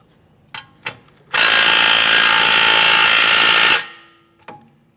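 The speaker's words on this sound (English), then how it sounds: "you're going to be using a 7mm Allen head socket to remove the slider pins" An impact or power tool driving a 7mm Allen head socket to remove the brake caliper slider pins on a 2015-2019 Subaru Outback rear brake, with one loud, steady burst of about two and a half seconds between a few short clicks.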